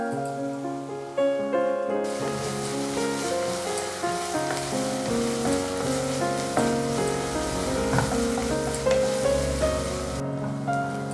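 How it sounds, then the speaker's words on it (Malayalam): Chopped onion sautés with a little salt in a pan, a continuous soft frying hiss under steady background instrumental music, with occasional faint stirring ticks. "ഈ വഴറ്റുന്ന ടൈമിൽ ഒരു 1/4 ടീസ്പൂൺ ഉപ്പ് കൂടെ ചേർക്കാം."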